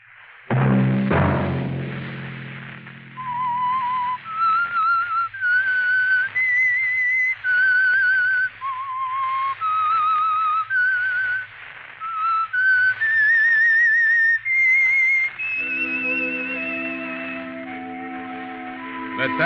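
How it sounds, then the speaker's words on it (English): A lone whistled melody, clear and prominent, moving through a slow stepwise tune over a soft sustained low accompaniment, ending on held orchestral chords. "Let that whistle be your signal"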